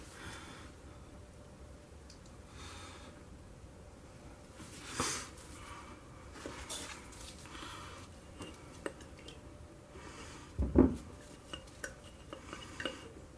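Quiet scraping and clinking of a utensil against a pan while stirring rosemary in oil, with occasional louder knocks, faint breathing, and a low steady hum underneath.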